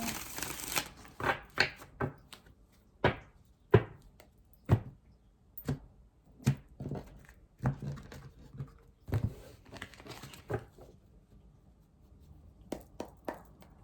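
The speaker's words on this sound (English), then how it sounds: "Give these a good shuffle." Tarot cards are shuffled by hand in repeated short riffling bursts and slaps, close up, with brief pauses between, and nobody speaks.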